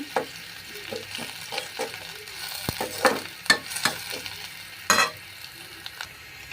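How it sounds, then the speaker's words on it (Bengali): Onions fry in hot oil in a wok, a quiet sizzle broken by several sharp scraping stirs of the spatula, the loudest coming around the middle and near the end. "এবং কড়াইয়ে পেঁয়াজ এবং তেল ভাজছি।"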